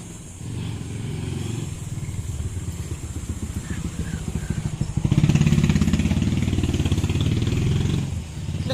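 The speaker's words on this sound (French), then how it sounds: "Il y a plein de taxis comme ça en mode moto." A motorcycle taxi engine in the Philippines runs steadily up close with a continuous chugging rumble that swells louder midway, with faint street background behind it.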